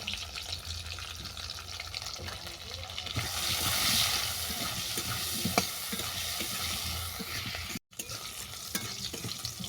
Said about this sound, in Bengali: আমি কচুটাকে বাদামি করে ভেজে নেব।